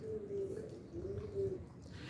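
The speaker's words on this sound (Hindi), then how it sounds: "ये प्योर टैडी कबूतरी है मेरे पास" A purebred female Teddy pigeon of a Pakistani breed coos in a low, rolling, repeated phrase, close and fairly loud, with no talk over it.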